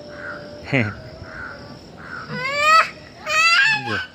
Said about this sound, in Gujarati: આ રહ્યા અહીંયા બેઠા બે ને બૂમો પાડે કાગડા